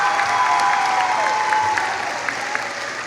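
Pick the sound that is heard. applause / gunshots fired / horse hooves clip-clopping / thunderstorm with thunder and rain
applause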